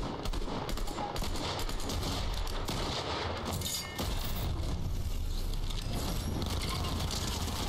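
Rapid automatic gunfire in a video game, continuous rattling bursts at moderate level that run throughout with a short lull partway through.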